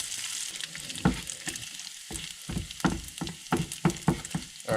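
Bacon strips crisping in a hot pan, a steady close sizzle broken by repeated sharp spatters and clatters of turning and stirring, with no voices.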